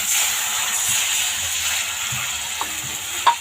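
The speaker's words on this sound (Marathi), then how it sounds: "आता आपण ह्यामध्ये पाणी टाकून घेऊया।" Water added to a pan of vegetables frying in hot oil for masala Maggi gives a steady, fairly loud sizzling hiss, with a couple of faint clicks near the end.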